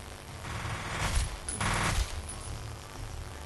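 Gunfire from the video game F.E.A.R. is a dense, muffled rapid burst filling the short clip, with a brief louder surge in the middle and no talking.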